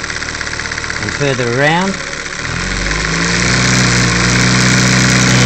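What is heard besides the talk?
homemade 12 volt ignition coil motor speeding up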